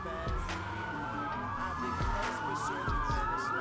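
Several police car sirens wail in the Watch Dogs video game, sweeping up and down over a steady hum of car engines, with brief thumps mixed in.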